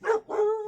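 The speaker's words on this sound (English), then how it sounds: "And sorry about my dogs." A dog gives two quick, close barks, the second drawn out into a tonal whine, heard alone indoors.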